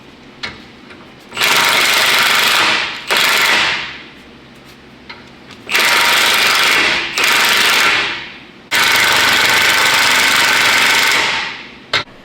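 A battery-powered Milwaukee impact wrench hammers bolts into the suspension of a rusty 20-year-old Duramax diesel truck, firing in three long, loud rattling bursts with brief pauses between.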